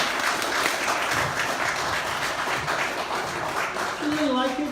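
An audience applauds after a talk, dense sustained clapping throughout, with a voice briefly speaking over it near the end.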